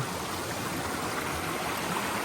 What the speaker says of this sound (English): Look at that waterfall. Isn't that awesome?